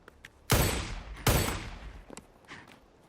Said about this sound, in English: Of course they shoot you.